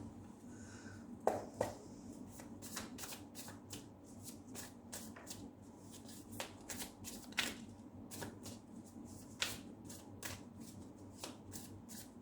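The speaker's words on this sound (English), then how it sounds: "Pathetic attempt at shuffling." Tarot cards of the Seers Tarot deck being shuffled by hand, a quiet run of rapid riffles and soft slaps repeating steadily over a low background hum, with no talking.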